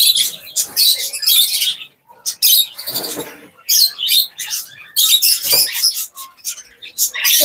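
Caged doves and cockatiels at a local breeding farm chirp and call in a dense, continuous flurry of close, sharp tweets with only brief pauses, and no voices can be heard.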